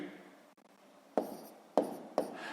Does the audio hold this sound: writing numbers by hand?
yes